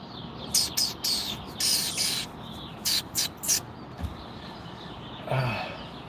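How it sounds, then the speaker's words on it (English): Several birds chirp in quick, bright bursts outdoors, scattered calls coming and going over a steady background hiss. "Listen to those birds."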